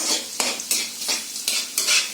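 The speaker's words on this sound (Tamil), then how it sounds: "இந்த ஜிஞ்சர் கார்லிக் இந்த வெஜிடபிள்ஸ்லாம் ஃப்ரை பண்ணும்போது ஹை ஃப்ளேமில் வச்சு ஃப்ரை பண்ணுங்க, வதக்குங்க." Ginger, garlic and vegetables frying over a high flame, a constant sizzle broken by repeated scraping stirs of a utensil against the pan, close and clear, with no voices.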